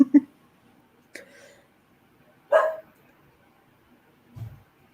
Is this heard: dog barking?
yes